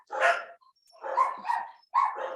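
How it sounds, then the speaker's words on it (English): A dog barks three times in quick succession, fairly loud and close, with short pauses between the barks and no talking over them. "I have a dog who loves to hear my voice"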